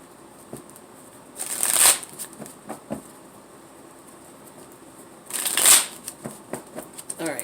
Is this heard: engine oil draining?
no